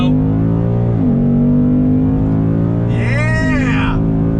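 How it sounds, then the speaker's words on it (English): A 2021 Ford Mustang GT accelerates hard on throttle from a slow roll, its engine roaring loud and close with rising pitch sweeps at quick gear shifts, and a voice exclaims over it. "my favorite part of any Mustang is the on-throttle fun. So from a slow roll, on throttle"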